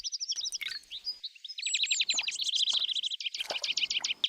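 Small birds at drinking pools in spring chirp and trill in rapid, overlapping bursts, close and lively, with quick repeated notes and short pauses.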